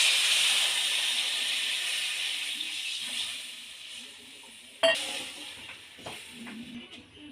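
Water is added to a sizzling pan of fish and potato curry: a loud steady hiss and sizzle that gradually fades, then a sharp clatter of utensil on pan and softer bubbling afterward.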